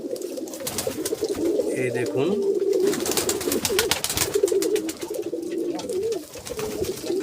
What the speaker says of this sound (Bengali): দেখুন আমার কবুতরগুলা, এই কিছুক্ষণ আগে কবুতরগুলারে খাবার দিচ্ছি।